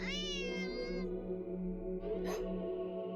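A cat lets out a long, rising and falling meow close by, followed by a shorter cry.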